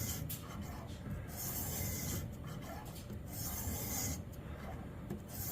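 A knife blade is stroked back and forth on a Xarilk Gen3 sharpener, giving rhythmic raspy scraping strokes in short bursts close to the microphone, with brief pauses between passes.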